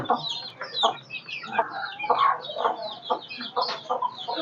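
Native chicken chicks and hens on a small poultry farm: a dense, continuous chorus of close peeping chirps and soft clucks, overlapping without pause.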